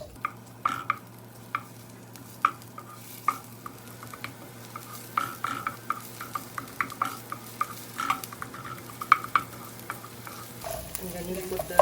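Potato tikki mixture fries in a pan while being stirred, a steady sizzle broken by frequent sharp scrapes and taps of the spoon, close and moderately loud, with a brief clatter near the end.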